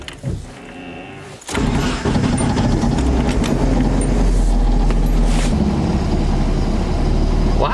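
A Nissan 240SX engine starts and settles into a steady, loud idle close by, a continuous low rumble with some rattle from the exhaust.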